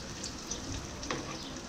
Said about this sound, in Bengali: অপর পিঠগুলো ভেজে নেওয়ার জন্য আমি আলুর চপগুলি উল্টে দিচ্ছি।